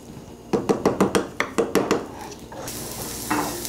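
Pinto beans and ham hocks get stirred in a pot, a quick run of about eight scraping knocks in steady rhythm, then a softer bubbling hiss as the stirring stops.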